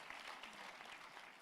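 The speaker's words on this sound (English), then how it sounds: "Let's give a powerful round of applause to our Chancellor." A graduation ceremony audience applauds the Chancellor with steady, dense clapping that holds at an even level for the full stretch, with no voices standing out.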